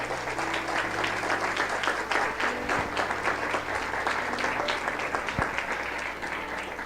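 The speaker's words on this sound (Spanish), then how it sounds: "Dele un buen aplauso al Rey de Gloria." Sustained applause from a church congregation during a sermon, dense steady clapping filling the room throughout, with a few faint voices mixed in.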